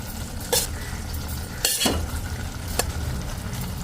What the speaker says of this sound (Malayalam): ബീഫ് കഷ്ണങ്ങൾ ചേർക്കുവാണ്